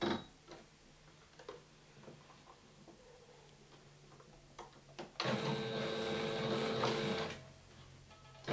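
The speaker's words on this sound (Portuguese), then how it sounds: "Agora eu vou costurar as mangas" Sewing machine stitching the sleeves of a flared jumpsuit: faint scattered ticks and taps, then a loud close burst of rapid stitching lasting about two seconds before it stops, with no talk.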